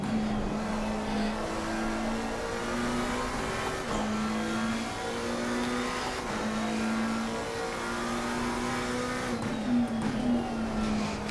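Race car engine in the Assetto Corsa Competizione sim at Watkins Glen, revving hard and climbing through gears out of corners, with repeated rising pitch sweeps and brief shift dips, loud and continuous with no talk.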